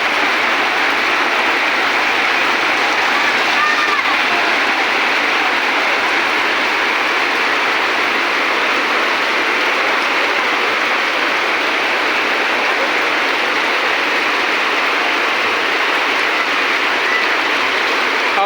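A steady, heavy afternoon rain drums and hisses without pause, a loud, close, uniform wash of falling water lasting the whole stretch with no voices.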